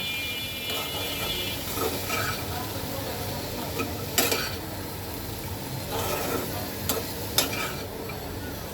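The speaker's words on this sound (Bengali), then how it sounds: "এবার আমি এটাকে খুব সুন্দর মতো কষাবো" Vegetables with salt, turmeric and ground coriander are stirred and sautéed in a pan, a soft steady sizzle with scraping spoon strokes and a few sharp metallic clinks against the pot.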